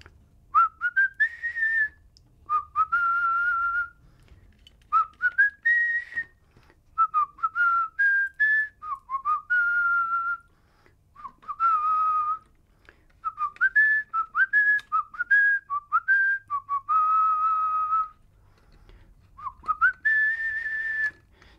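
The Indiana Jones theme whistled solo in short melodic phrases with brief pauses between them, clear and close, with no talking.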